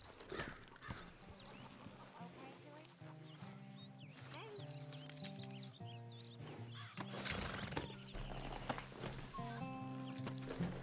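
Rhythmic horse hooves clip-clop over a busy, musical Red Dead Redemption 2 game soundscape, with whinnies and bird calls mixed in throughout.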